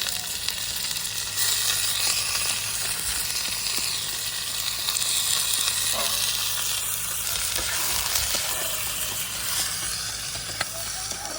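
Meat hitting hot oil with frying onions at an outdoor riverside picnic, a loud steady sizzle and hiss that swells as pieces are stirred, continuing without a break and with no talking.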